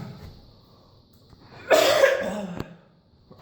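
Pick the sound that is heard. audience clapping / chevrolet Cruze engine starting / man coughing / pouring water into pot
man coughing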